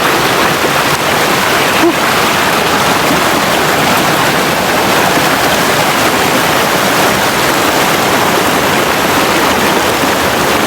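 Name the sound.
waterfall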